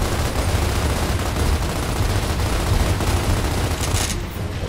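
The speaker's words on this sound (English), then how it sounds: "Incoming frag!" Heavy video-game gunfire from Gears of War, a dense continuous fusillade of shots and booms amid which a frag grenade comes in, loud and sustained without any audible speech.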